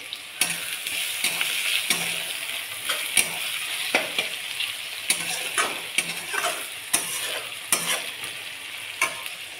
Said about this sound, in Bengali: আমার তেল গরম হয়ে গেছে, আমি পেঁয়াজ দিয়ে দিয়েছি, কুচানো পেঁয়াজ দিয়ে দিয়েছি